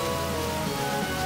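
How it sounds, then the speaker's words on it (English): Rain weather in the Pokemon Black video game gives a steady, even hiss of falling rain that stays level and uniform for the whole short stretch, with no voices. "It's raining."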